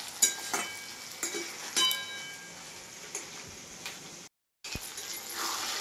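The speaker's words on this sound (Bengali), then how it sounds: "এই টমেটোটাকে দিয়ে নিয়ে এবার আমি কিছুক্ষণ এইভাবে ভাজবো।" Chicken and tomato fry in a pan with a soft, steady sizzle, broken by a few sharp clicks and clinks of stirring, faint and close, with a brief moment of silence near the end.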